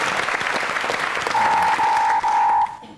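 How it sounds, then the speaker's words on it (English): Studio audience applause on a comedy panel quiz show, dense and steady throughout, with a sustained electronic tone sounding over the clapping in the second half before the applause thins at the end. "a round of applause for Jade, the most popular Big Brother contestant ever"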